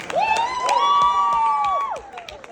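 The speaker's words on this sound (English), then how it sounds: "big round of applause" Audience members cheer and whoop with loud sustained shouts over scattered clapping, a short burst of crowd noise that fades quickly.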